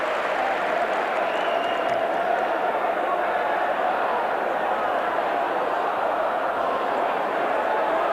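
A large crowd roars and cheers at a 1992-93 rugby league cup semi-final between Wigan and Bradford, a dense, sustained wash of noise that stays loud and steady throughout.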